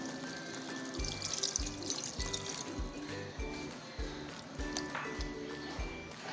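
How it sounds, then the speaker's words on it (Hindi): Water pours steadily into a pot with a trickling, splashing sound, joined by a faint background hum and a repeating low thump. "अब हम इसमें डाल देंगे 1 कप पानी"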